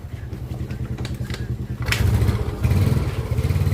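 A Yamaha Mio Sporty scooter engine runs close up after starting, a rapid putter that surges into two louder throttle revs near the end.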